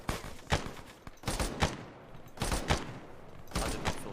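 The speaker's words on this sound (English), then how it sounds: "Ross, intermittent suppressing fire." Suppressing gunfire in a Soviet-era combat video game set in Africa, heard as several bursts of fire at roughly one-second intervals, loud and close, with no talk over it.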